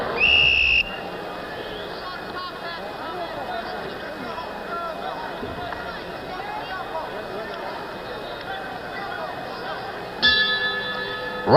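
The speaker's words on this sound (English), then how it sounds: "Round 3, and for once Quarry stayed on a stool until the warning bell went" Boxing ring warning bell at a 1972 heavyweight bout, Ali versus Quarry: a loud, bright ring opens the clip and cuts off after about a second, then another bell strikes near the end, over steady crowd chatter and commentary.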